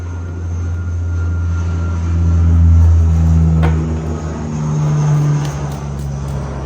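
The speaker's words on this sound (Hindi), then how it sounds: "ये एरोप्लेन की आवाज़ है।" Airplane flying overhead, a loud steady low engine drone that swells and fades gently as it passes, with no one speaking.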